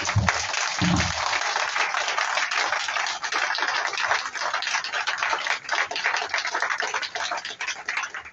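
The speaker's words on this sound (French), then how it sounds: "Je voudrais qu'on l'applaudisse très fort, notre camarade." A large crowd applauds loudly and steadily for over eight seconds at a political rally honouring a comrade, a dense wash of clapping that stays strong throughout, with a brief low thump near the start.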